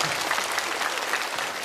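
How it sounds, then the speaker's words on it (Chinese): A studio audience claps for Luo Xiang at a Chinese roast comedy show, a dense and steady burst of applause, loud and close, with no voices over it. "再次掌声送给罗翔老师。"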